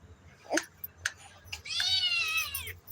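A pet cat meows indoors, first two short, faint calls and then one longer, drawn-out meow, close to the microphone and heard alone in a quiet room.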